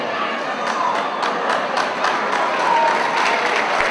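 Loud, close crowd applause at a tribute show, a continuous wash of many clapping hands with faint cheering mixed in, holding steady throughout.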